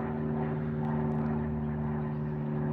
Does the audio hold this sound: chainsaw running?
no